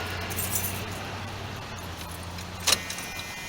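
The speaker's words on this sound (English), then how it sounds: "Put the key in the old ignition here." Car keys jangle as a key is pushed into the ignition of a 1979 Chrysler B-body, a short bright metallic rattle near the end of an otherwise quiet, faintly humming stretch.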